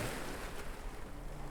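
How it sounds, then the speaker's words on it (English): Sea waves washing in as a steady broadband rush, close and fairly loud, with no voices over it. "I don't know what it is about the sound of the sea and of waves"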